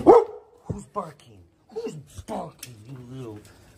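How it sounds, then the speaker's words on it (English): A dog gives one sharp, loud bark right at the start, then a person speaks at close range. "surprised you didn't bark before that"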